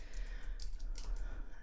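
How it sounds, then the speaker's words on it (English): Soft keystrokes on a computer keyboard, typed while working in Photoshop: a handful of light, scattered clicks over a low steady hum, fairly faint and close. "and then continue typing"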